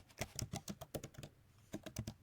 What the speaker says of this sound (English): She's legit typing.